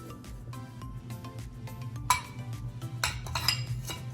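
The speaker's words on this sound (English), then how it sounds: "we're just going to mix until everything is combined" Utensil clinks and scrapes against a bowl while batter with sifted flour is mixed, with irregular sharper clatters standing out over a low steady background hum.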